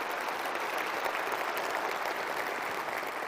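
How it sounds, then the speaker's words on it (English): Dense, steady applause from a large crowd at Sony's E3 2005 press conference, a continuous wash of many hands clapping at even volume throughout. "I think that's worth a round of applause."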